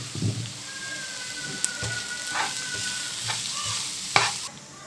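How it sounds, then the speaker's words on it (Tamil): A spoon stirs chicken samosa-roll filling with spice powders in a hot pan, giving a steady close sizzle with scraping strokes and a few clanks against the pan, and no voices. "சேர்த்துட்டு இதெல்லாம் போட்டு நான் நல்லா கிளறி கொடுக்கலாம்."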